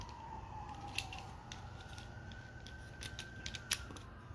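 Small plastic parts of a Transformers Rise of the Beasts Studio Series figure snapping into place, a few sharp close clicks spaced over a faint hum, no talk.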